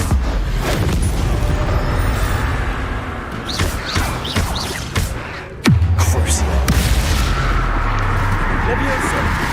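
Bombarda explosion spells in the Hogwarts Legacy video game land with repeated booms and thuds, and one heavy blast hits midway, amid ongoing combat noise and a voice shouting spell names.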